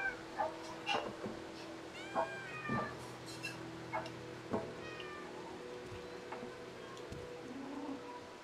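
Several cats meow in the video game Stray, their high wavering cries repeating at irregular intervals over a busy ambient game soundscape, moderately loud and close.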